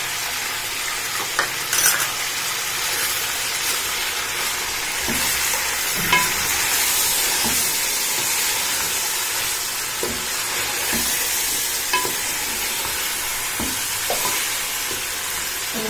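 Meat sizzles loudly and steadily with garlic paste in a hot pan, with occasional scraping of stirring and no voices.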